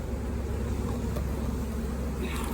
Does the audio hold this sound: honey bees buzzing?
yes